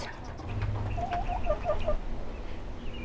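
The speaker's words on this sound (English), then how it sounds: "Backyard chickens" Backyard chickens on a small city lot cluck steadily in a soft, continuous run of calls, close by, over faint outdoor background noise and with no voices.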